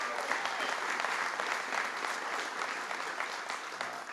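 An audience at a firehouse event in Chesterfield, Virginia claps in a steady, full round of applause throughout, with no voices rising above the clapping.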